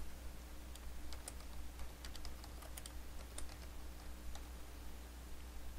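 A file name typed on a computer keyboard, a quiet scattered patter of light key clicks over a steady electrical hum, fairly close and with no talking.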